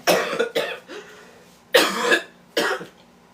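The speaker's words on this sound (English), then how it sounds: "I still have that cough." A person coughs several times up close, a cluster of rough, breathy bursts with short gaps between them.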